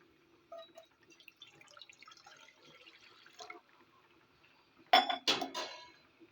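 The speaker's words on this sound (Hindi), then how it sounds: "पानी डालेंगे" Water is poured into a cooking pot on a home kitchen stove during a peas recipe: a quiet stretch with faint kitchen clinks, then a few loud, close splashing and clattering bursts near the end, with no talk.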